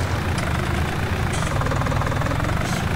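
Tractor engine idling in Farming Simulator 19, a steady low diesel rumble with faint knocking texture, even and continuous at moderate loudness, with no talk.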